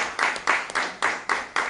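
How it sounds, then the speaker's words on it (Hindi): Farmers gathered at a Madhya Pradesh government event clapping, about six evenly spaced claps in a steady rhythm, close and moderately loud with no talk. "ताली बजाते हुए देखे"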